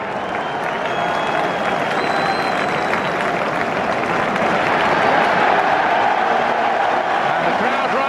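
Football stadium crowd at an Arsenal versus Chelsea Premier League match, a loud, sustained roar of cheering and applause that swells slightly midway and carries steadily throughout.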